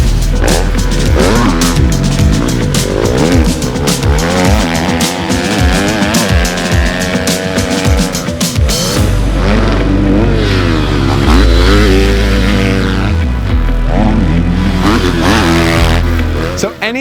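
A 2024 Triumph TF250-X motocross bike being ridden hard, its engine revving and climbing through repeated loud throttle sweeps, close and continuous throughout.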